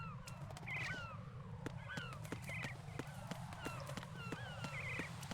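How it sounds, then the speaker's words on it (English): Seagulls in the video game Metal Gear Solid 2 give repeated faint squawking calls over a steady low rumble, with sharp ticking clicks scattered throughout. "There's a lot of seagulls."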